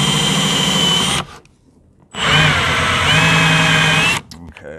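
A countersink drill bit fitted with an adjustable stop bores into a workpiece, giving two loud, whining bursts of drilling separated by a short pause, the second lasting about twice as long as the first.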